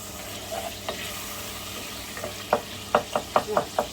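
Onions frying in a pan for a chicken curry with butternut squash, a low steady sizzle with a run of sharper spoon scrapes and stirs growing louder toward the end, heard alone up close.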